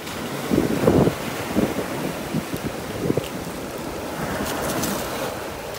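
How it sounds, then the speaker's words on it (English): Ocean waves wash in and out on a beach in North Naples, Florida, a steady broadband surf roar with a few gentle swells and wind buffeting the microphone, no talking. "As the waves come in and out, they uncover different little treasures."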